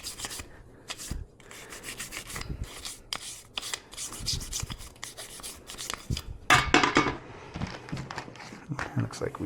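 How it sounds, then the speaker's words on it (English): Scrubbing and rubbing on a French MAS 49/56 rifle part at a workbench, a busy run of rasping brush strokes in uneven bursts, close and fairly loud. "I just sort of go to town and get things scrubbed as much as I can."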